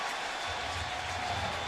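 Roaring crowd noise fills a football stadium at a 2009 Bengals at Ravens game, a dense, loud, continuous wash of cheering and applause with no break.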